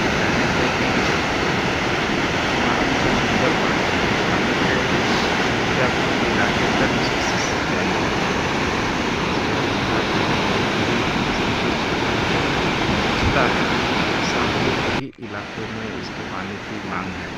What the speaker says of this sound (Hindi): इस तरह से आप देख सकते हैं कि ये नहर का पानी है, यहाँ से बंधे से निकलता है